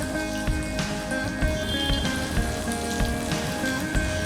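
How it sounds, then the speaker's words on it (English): Fish deep frying in hot oil, Zakaria Street style, with a steady close crackle and sizzle and frequent small pops running throughout. "It will be a deep fry. And you can see the frying started already."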